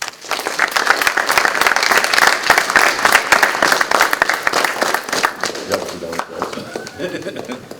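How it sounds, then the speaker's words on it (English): An audience at a boys-to-men program gives a dense round of applause after a keynote speaker's prompt, sustained clapping filling the room before tapering off, with a voice faintly under it. "give yourselves a round of applause"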